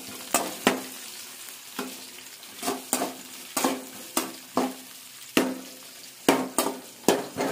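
Pulao spice items frying in a pan for a village-style mushroom curry: a close sizzle broken by regular scraping and knocking strokes of a spatula stirring against the pan, with no talking.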